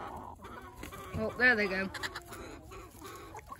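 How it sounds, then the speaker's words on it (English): Roosters fighting in a backyard chicken pen after new hens were added, with loud bursts of squawking and clucking near the middle of the clip, mixed with background sounds and someone speaking. "There goes some roosters over there. Oh, they're split fighting."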